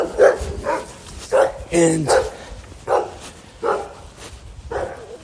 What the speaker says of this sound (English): Now there's a couple different dogs joining the show today.